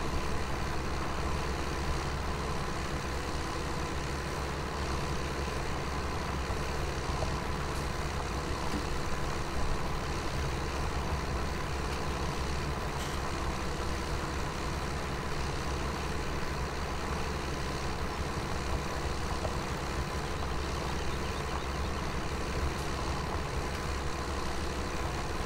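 A tractor engine in Farming Simulator 17 drones continuously at a steady, loud, unchanging pitch for the whole stretch, a heavy low hum with no talking over it.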